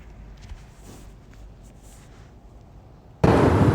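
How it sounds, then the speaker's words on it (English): A Russian Sarmat intercontinental ballistic missile test launch: after a few seconds of low rumble, a sudden, loud, broad roar erupts and holds steady at full force. "Russia releasing video of this intercontinental ballistic missile test"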